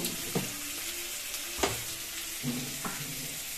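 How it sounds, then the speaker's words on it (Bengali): Onions and tomatoes stir-fry in a pan for a spicy fish dish, a quiet continuous sizzle punctuated by three or four distinct spatula clacks and scrapes, close up. "পেঁয়াজ আর টমেটো আমি হাতুলে নেব।"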